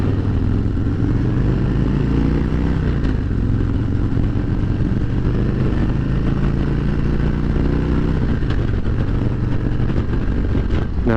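A 2023 Harley-Davidson Road Glide Special cruises at speed, its engine a steady low rumble blended with heavy wind rush and road noise, loud and continuous with slight shifts in pitch near the end.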